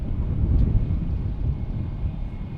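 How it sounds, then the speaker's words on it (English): A Boeing 787 Dreamliner departs Dallas Fort Worth International Airport, a steady low broadband jet roar heard from a distance with no voices. "Off to Philadelphia that Dreamliner went."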